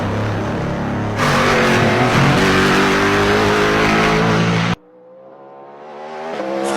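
A Cadillac V-LMDH race car's V8 engine roars loud and close, holding a sustained high rev that climbs further, then cuts abruptly and starts rising again from a lower pitch.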